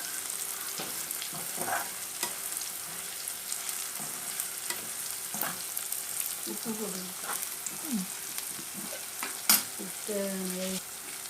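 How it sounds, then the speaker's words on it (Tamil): Steady soft sizzling of turmeric and spices frying in a pan for a tamarind chili dish, with intermittent scraping and stirring strokes and a faint voice now and then. "மஞ்சத்தூள் போட்டதுக்கப்புறம் ஒன்று கூட நல்லா கிளறி விட்டுக்கோங்க"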